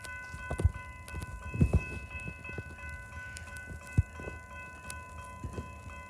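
A northbound BNSF empty coal train led by an EMD locomotive moves slowly, with rhythmic clanks and thumps of rolling cars over a steady tonal hum, fairly close and without talk.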